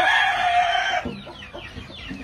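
A yellow-legged hatch gamefowl rooster lets out a loud, close crow-like call lasting about a second, then follows with softer scattered clucks, with no talk.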